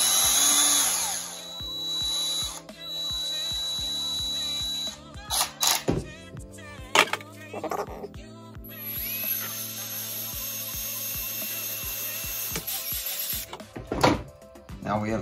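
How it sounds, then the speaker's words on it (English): A small drill bores a starter hole in a car headlight housing in short, uneven bursts of high whining and grinding, separated by pauses and handling clicks, close and fairly quiet. "We're gonna be drilling out that little hole"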